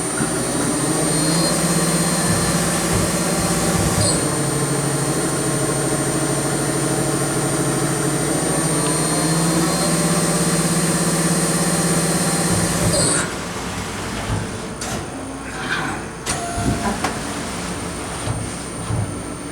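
Mori Seiki NL2000 CNC lathe runs a slow single-point cut, a loud steady machine hum and whine for most of the stretch before dropping to quieter clunks and rattles.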